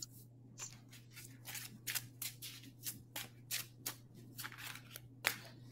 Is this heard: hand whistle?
no